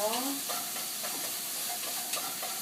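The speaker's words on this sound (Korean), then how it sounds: "맛있는 가지가 볶아지고 있습니다" Eggplant, salted lightly, stir-fries in a pan for bibimbap, a close, steady sizzle broken by repeated scraping strokes of a utensil stirring the slices, with a brief whistle-like tone at the start and no talk.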